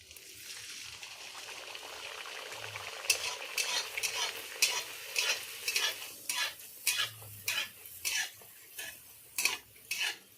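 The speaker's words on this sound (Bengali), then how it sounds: "লুচি ভেজে নেবো" Luchi frying in hot white oil in a wok: a steady soft sizzle, later broken by a series of sharp scraping and stirring clicks at an irregular rhythm, close by, with no speech.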